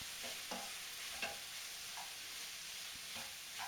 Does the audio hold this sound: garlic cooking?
yes